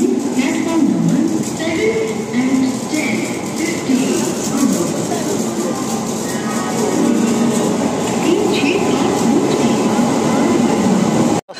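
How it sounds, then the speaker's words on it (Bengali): A train pulls into a platform at Howrah station, a loud continuous rumble and rattle of carriages with faint squeals, under chatter from people on the crowded platform. "ট্রেন এসে গেছে।"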